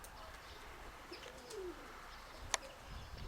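Pigeons near a nest of second-brood young give a soft coo and a few faint chirps over steady outdoor background noise, with one sharp brief click partway through.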